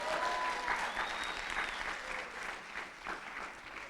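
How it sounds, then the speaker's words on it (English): Audience applause at an academy session, a steady wash of many hands clapping, moderately loud and sustained for the whole stretch with no talk over it. "So clap a little louder one more time."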